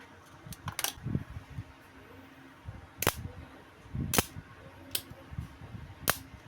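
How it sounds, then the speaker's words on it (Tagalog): Sharp electrical sparks snap from a fully charged, revived ebike battery during a spark test: about five loud, isolated cracks spread over several seconds above a faint room hum. "Check natin sa spark test."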